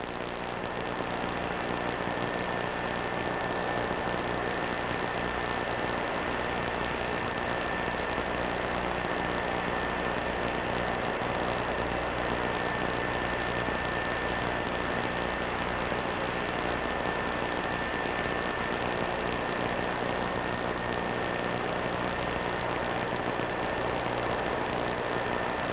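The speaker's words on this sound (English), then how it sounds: "An aircraft obvious to the eye that can carry much, much more than the precious cargo it's being asked to bear northward this morning." Aircraft engines of a large transport plane carrying the Challenger crew drone continuously with a steady tonal whine over a broad roar, constant and loud throughout with no voices.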